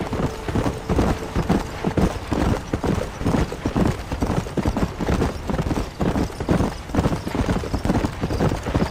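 Horse hooves clip-clop at a steady gallop in the Red Dead Redemption Western video game, near and continuous throughout with dense rhythmic beats; a voice briefly spurs the horse on.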